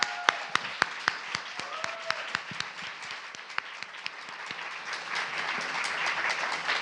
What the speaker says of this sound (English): let's give a warm round of applause to Elizabeth Strout for the release of Lucy by the Sea